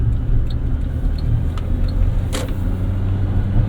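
Cabin of a 2012 Suzuki Grand Vitara Limited with a 2.4 engine and four-speed automatic while driving, a steady low engine rumble and road drone with a few faint clicks, no talking.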